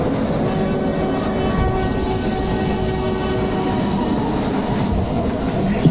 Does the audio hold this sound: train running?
yes